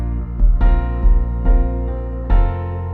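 A song plays as a piano-led excerpt with drums that lift the groove, with steady beats and sustained chords heard up close and no talking over it.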